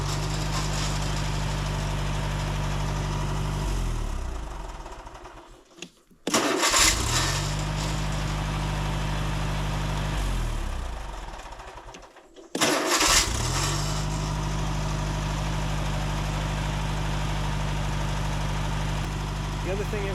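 A 1982 Condor 46N boom lift's engine cranks and catches twice, each time settling into a steady, loud low idle, with a brief stop between the two starts.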